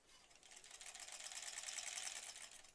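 A sewing machine runs a steady straight stitch on an applique pillow, a fast even whirr that builds slightly and holds close and clear for the whole stretch, with no talking.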